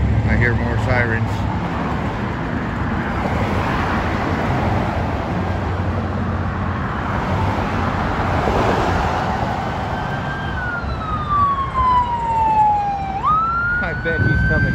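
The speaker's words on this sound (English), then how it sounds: "I hear more sirens." Police sirens approach a Glendale arrest scene. Traffic rumbles and voices mix in before a clear wailing siren rises and falls, sweeping up sharply toward the end.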